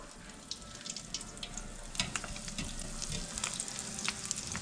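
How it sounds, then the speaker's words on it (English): Arancini rice balls drop into deep oil heated to about 340 to 350 degrees, setting off a steady crackling sizzle with sharp bright pops scattered throughout, close and fairly loud, with no talking. "we're gonna put our rice balls in now"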